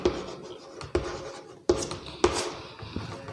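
Chalk scratches across a classroom blackboard while a teacher writes the name of an electron shell, several short strokes with sharp taps at each start, close and fairly quiet.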